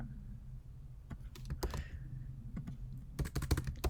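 Close computer keyboard typing as code gets written, irregular clicks in short bursts with pauses between them, ending in a quick run of keystrokes.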